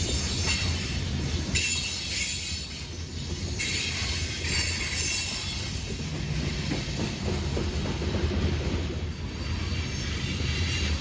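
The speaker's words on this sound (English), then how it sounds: "this looks just like any other grain train we get through here" A freight grain train on the New River line rolls steadily past, a continuous heavy rumble of wheels on rails with a high metallic squeal running above it throughout.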